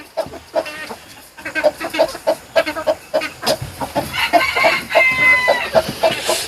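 An agitated chicken outside its coop during a heatwave clucks loudly and rapidly in a rising, insistent series, close by, and the calls swell into a strained, crowing-like squawk toward the end.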